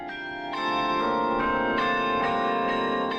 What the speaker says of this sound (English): When these clappers hit the bell, it produces the iconic carillon sound.